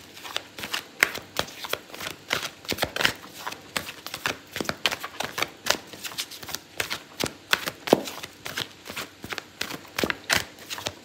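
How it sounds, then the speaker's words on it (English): Tarot cards being shuffled by hand in repeated quick riffles and slaps, close and crisp, a steady run of bursts over several seconds with no talking. "I'm going to pull out a card for your advice"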